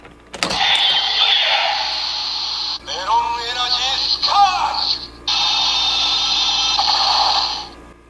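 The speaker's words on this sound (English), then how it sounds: "let me go ahead and show you the other sounds that this does" Bandai DX Sengoku Driver toy from Kamen Rider Gaim playing lock seed sound effects: bright electronic tones and chiming jingles from a small speaker, continuous for several seconds with brief breaks, fairly loud and close.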